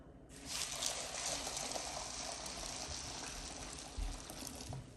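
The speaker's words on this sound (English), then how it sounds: "Pour them over them beans" Hot water poured from a kettle over black-eyed peas in a pot, a steady, close splashing gush that starts almost at once and runs unbroken for about five seconds.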